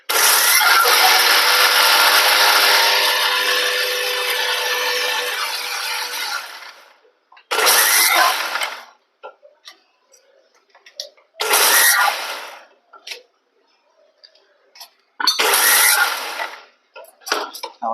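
A blender whirs orange juice in a long, loud run, then stops and gives three shorter bursts with quiet gaps between them.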